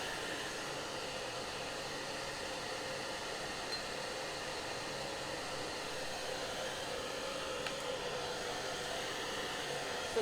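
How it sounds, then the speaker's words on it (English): A hair dryer drying thick chalk paint blows with a steady, even whoosh and motor hum, continuous and fairly close, with no voices. "if you put chalk paint down really thick and then hit it with the hairdryer"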